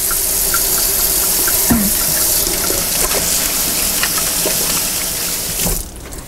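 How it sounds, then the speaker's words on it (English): Tap water running into a sink during handwashing, a loud steady gush close by with small splashes, easing off at the very end. "wash your hands."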